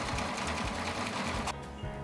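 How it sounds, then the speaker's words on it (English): A sewing machine runs fast, stitching fabric under the presser foot for a jacket. The mechanical whir is loud, close and steady, with rapid needle pulses, then it briefly eases and starts again, with no voices. "Put the material under the presser foot and put the foot down and start sewing."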